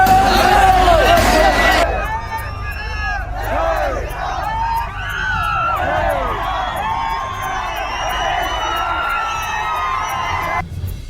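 A large crowd of saffron-shawled college students in Karnataka chanting Jai Shri Ram, loud rhythmic shouting that swells repeatedly over a long stretch, with a voice talking at the start.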